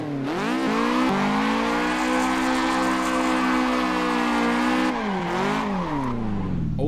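A Toyota 86 drift-spec car in Assetto Corsa revs hard, its engine note rising and falling through several loud, sustained sweeps with tire squeal, close and continuous without talk.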